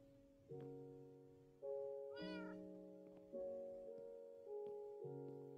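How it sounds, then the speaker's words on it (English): A Minecraft cat meows repeatedly, with about five clear, evenly spaced meows and a faint rising chirp among them, heard over a quiet in-game background with no talking. "Oh, cat, you came in."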